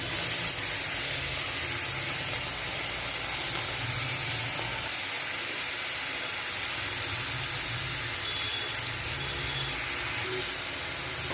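Bitter gourd, pumpkin and onion with salt and turmeric frying in a hot pan, giving a steady, close hiss and sizzle that continues evenly throughout without talk.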